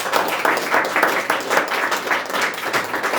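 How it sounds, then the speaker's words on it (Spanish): A church congregation applauds at a men's breakfast service, loud close clapping with a pulsing rhythm sustained throughout. "¿Cuántos pueden darle un aplauso al Señor porque nos deja estar en su presencia?"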